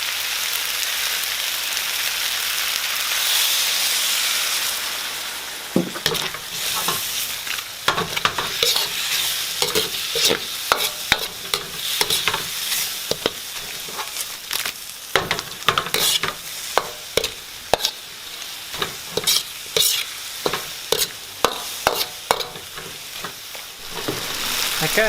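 Beef stir-fry with ginger and shallots sizzles loudly in a hot pan as sauce goes in, the steady hiss breaking into sharp, irregular crackles and spatters that continue close up and unbroken, with no talking.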